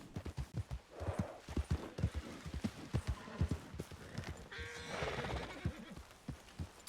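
Horse hooves clip-clop in a steady rhythm through a forest in the RedM western video game, close and fairly loud, with a brief snort or whinny midway and no talking.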